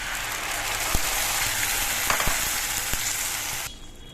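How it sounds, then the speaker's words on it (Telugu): Tomatoes sizzle steadily in a hot pan with fried onion and ginger-garlic paste for makhana gravy, a few spoon or utensil taps over the frying, then the sound drops off sharply near the end. "టమాటా వేస్తున్నాం."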